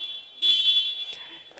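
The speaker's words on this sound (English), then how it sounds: "That timer that you hear, that little annoying shriek, that is a timer of 30 seconds." A 30-second raid timer at a kabaddi national championship match gives a shrill, steady, high electronic shriek that jumps louder partway through and holds before cutting off.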